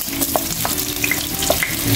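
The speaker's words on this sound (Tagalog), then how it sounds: "gisa na po muna natin yung ating luya at sibuyas." Ginger and onion sautéing in hot oil, a steady close sizzle and crackle with occasional utensil stirs and light clinks running throughout, no talking.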